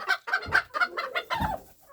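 Bantam hens and roosters cluck in a quick run of short calls, close by, with no talking over them.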